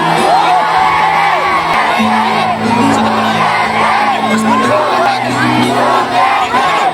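A large crowd shouting and cheering continuously, loud and dense, with whoops and a sustained low drone running beneath the roar.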